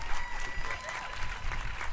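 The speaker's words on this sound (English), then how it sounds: "please give a round of applause to Mirac for putting this great event togeth" A crowd at a protest claps in steady, dense applause, outdoors and moderately loud, with a voice or two faintly mixed in.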